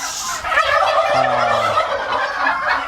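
A farmyard turkey gobbles once, a loud rapid rattling call up close and alone, with faint ambient noise around it.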